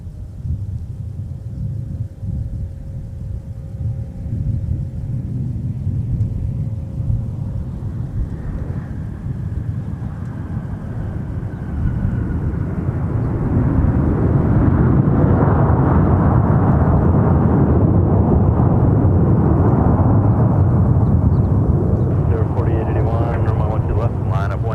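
A United airliner in blue livery landing on runway 12 right at Minneapolis–St. Paul airport, a low engine rumble that builds into a loud, sustained roar as it nears, with a voice heard over it.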